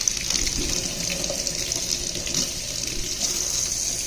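Hot water pours steadily from a tap in a newly built house, a continuous close splashing hiss with no breaks.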